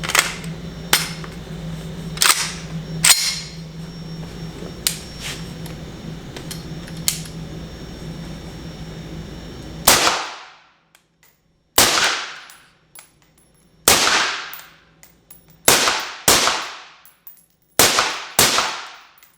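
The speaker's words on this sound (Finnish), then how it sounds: "kokeillaan miltä tää tuntuu ampua vaimentimen kanssa" Suppressed shots from an SKtactical Ensio Firearms KAR-21 rifle ring out one at a time, about a dozen sharp, loud reports with short decaying tails, first over a steady background hum and then against near silence.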